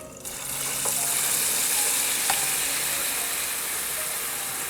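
Shrimp drop back into hot oil for a second fry, a dense hissing sizzle that rises quickly after a brief start and then holds steady and loud with a few faint clicks.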